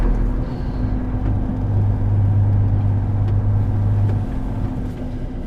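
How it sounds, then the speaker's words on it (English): A truck reversing and driving away, giving a steady, loud low engine rumble and drone that swells in the middle, with no voices heard. "Reversing and driving, reversing and driving. Definitely reversing."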